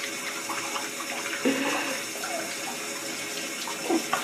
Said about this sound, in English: my finger up under the cold water